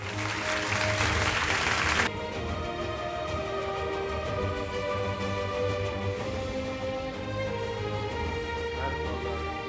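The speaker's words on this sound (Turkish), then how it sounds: "ödülü Metin Ceylan Yıldız geliyor alkışlarla efendim." Applause from an award ceremony audience, the 15th Digital World's Bests awards, bursts loudly for about two seconds and then gives way to music that plays on to the end.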